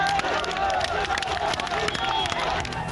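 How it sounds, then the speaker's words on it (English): Charged crowd protesting in the street in Moradabad over remarks about the Prophet, a dense, continuous roar of many voices shouting and chanting, loud and close throughout. "The charged crowd indulging in heavy sloganeering"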